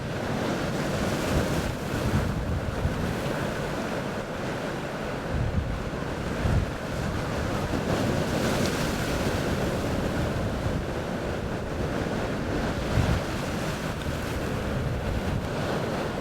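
Ocean surf on a Hawaiian shore, waves breaking and splashing in a steady roar with wind buffeting the microphone throughout, some surges noticeably bigger than others.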